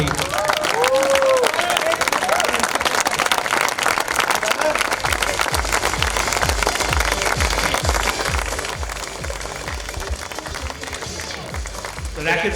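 An audience at a CCI International 2019 awards presentation claps steadily and loudly for the whole stretch, a dense wash of applause that fades slightly toward the end while a voice talks over it.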